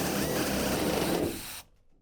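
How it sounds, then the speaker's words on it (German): A compressed-air nibbler cuts a window opening into a Fiat Ducato L3H4 van body, giving a loud, continuous rasping buzz that stops abruptly partway through, leaving near silence. "Mein Vater hat irgendwann mal so einen Nippler hier gekauft mit Druckluft."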